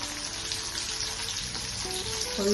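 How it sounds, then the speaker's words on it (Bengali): Vegetables fry in a pan for a Bengali lemon rou fish curry, giving a steady, dense sizzle throughout with a few faint tonal clinks near the end and no talking. "দেখুন সবজিগুলোকে ফ্রাই করে নিচ্ছি।"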